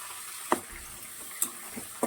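Onions, green chillies and curry leaves fry in a pan for a carrot and beetroot curry, giving a steady low sizzle with three sharp utensil clinks against the pan.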